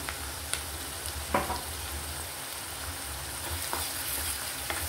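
Ginger garlic paste fries with onions for a chicken dish, a steady close sizzle with occasional soft scrapes from stirring.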